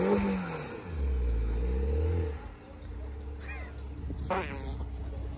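Mini Cooper S engine straining and revving as the car climbs a steep mound, a loud low drone that rises and falls, then drops away to quieter idling with brief shouted voices and squeaky sounds.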